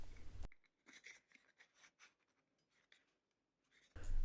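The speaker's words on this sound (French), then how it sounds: "Donc j'en coupe des morceaux que je viens mettre sur ma pâte métallique." Thick heat-shrink tubing is cut into pieces, giving a handful of faint, crisp snips spread out over a few seconds with quiet gaps between them.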